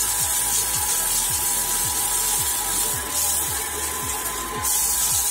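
An Airline Cyclone-2 cyclone vacuum cleaner runs close by with a constant loud, dense whoosh of suction and motor whine, plus a regular low pulsing throb underneath.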